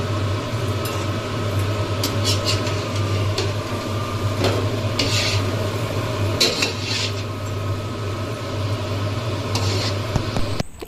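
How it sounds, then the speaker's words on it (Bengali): Lentil fritters fry in a pan and are lifted out one by one. A steady kitchen hum runs throughout, broken by clattering metal scrapes and clinks of a utensil against the pan. "বড়াগুলো কিন্তু সব লাল লাল হয়ে ভাজা হয়ে গেছে এবার তুলার পালা"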